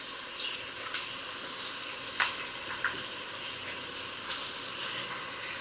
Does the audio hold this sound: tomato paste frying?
yes